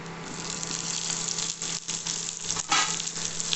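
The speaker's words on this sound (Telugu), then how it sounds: "ఇప్పుడు ఇది వేగిపోయింది కాబట్టి ఉల్లిపాయలు కూడా వేసేద్దాం" Chopped onions go into hot oil for a rice tempering, setting off a loud, steady sizzle and crackle of frying close by, with a brief stirring scrape near the end and no voices.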